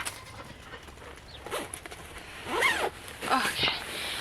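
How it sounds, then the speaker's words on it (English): A winter coat zipper is zipped up outdoors in the cold, giving a few quick rasping pulls close to the microphone, with the wearer talking over and between the strokes. "We're even gonna zip it up."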